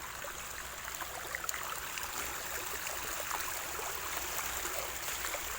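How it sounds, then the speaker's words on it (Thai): Rainy-season water rushes strongly past rice fields in a steady, broad hiss, continuous and fairly close, with no voices. "นี่น้ำไหลแรง"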